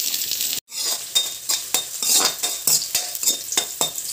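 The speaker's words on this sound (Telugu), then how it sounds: "పచ్చిమిరపకాయలు వేస్తాం. అవి అయితే ఫ్రై అయినాయి." Green chillies and onion fry in hot oil in a home kitchen pan, with a steady sizzle under rapid, repeated scrapes of a spoon or spatula stirring close by; no voices.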